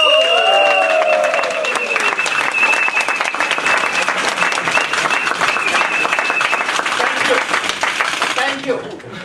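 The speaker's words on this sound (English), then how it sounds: "applause to our Toastmaster of the evening" Audience applause for the Toastmaster of the evening at a District 51 Toastmasters champion's night, sustained dense clapping from a crowd that stays loud throughout and dips slightly at the very end, with a few voices and a whistle-like tone mixed in.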